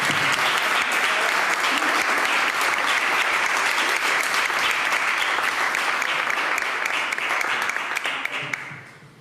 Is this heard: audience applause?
yes